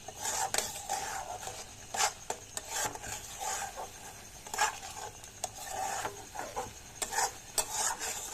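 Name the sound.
stirring palm pulp with salt in a pot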